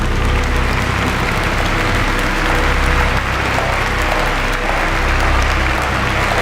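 Steady, dense applause from a large crowd in the video game Virginia, many hands clapping at once, loud and continuous throughout without a break.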